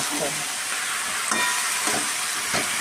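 Cauliflower stems frying in a dented, worn home kadai, giving a steady broadband sizzle with a few soft stirring scrapes, close and fairly loud throughout.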